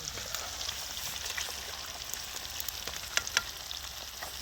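Fish tikka fries in hot oil, a continuous crackling sizzle with scattered sharper pops and spits, heard close and moderately loud with no voices.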